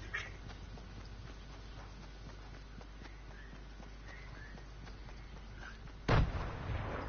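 Gunfire in a PS4 battle royale shooter, a steady rattle of distant shots under a low hum, then one loud close blast near the end followed by rumbling.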